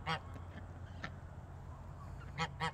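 A goose being fed salad gives a few short, nasal honks: one at the start, then two close together near the end, over quiet background hiss.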